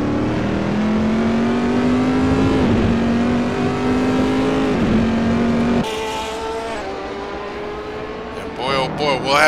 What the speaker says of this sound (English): Both driving the Chevrolet Corvette C6 GT2 car.